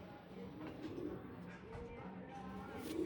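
Pigeons kept by a fancier in a home loft coo in low, soft murmurs, with other voices and background noise running underneath throughout.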